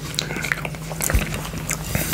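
Someone close-up bites and chews Croatian stuffed peppers in tomato sauce, soft wet squishing and mouth sounds in a short, uneven rhythm.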